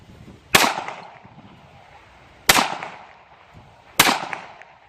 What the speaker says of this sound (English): Shoot that bowling ball.